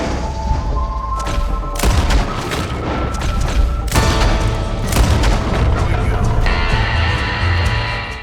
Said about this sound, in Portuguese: Assim que chego na cidade, tento me comunicar, mas sou recebido a balas.